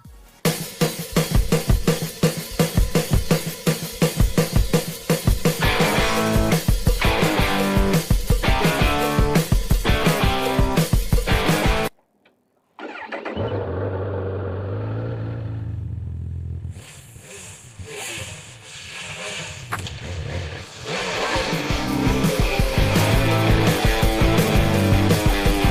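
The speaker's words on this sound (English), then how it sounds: "I've told you everything about the CB 1000 Black Edition 2024, I'm going to ride it" Honda CB1000R Black Edition 2024 motorcycle, loud and close, its engine revving hard with rapid gear-linked surges, then a brief cut to silence, a lower idle rumble, and renewed strong acceleration with wind noise; no talking.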